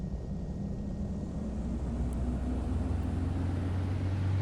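Jet engine roar as an aircraft takes off in Microsoft Flight Simulator X, full flaps set: a steady, loud low rumble with broadband noise that holds evenly throughout, no talking.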